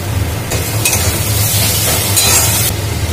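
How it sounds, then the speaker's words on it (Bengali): Onions, garlic, green chilli and tomato stir-frying in a pan, a loud steady sizzle with stirring scrapes throughout, close and without talk. "নেড়ে চেড়ে পেঁয়াজগুলো যখন ভাজা হয়ে যাবে, কারণ পেঁয়াজটা লাল লাল ভাজা হয়ে এসছে"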